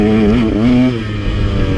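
Two-stroke dirt bike engine, a KTM 150 XC-W or Yamaha YZ250X, riding a trail with rising and falling revs as gears shift, loud and close for the whole stretch.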